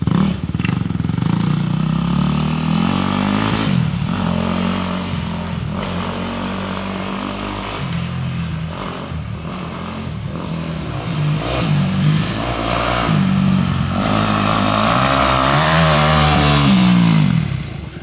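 Dirt bike engine running through practice laps on a slippery, sand-like track, a steady loud buzzing drone that swells and rises with revs across the stretch, with no talking over it.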